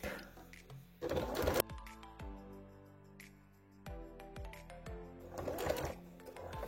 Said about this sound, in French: Et on coud tout.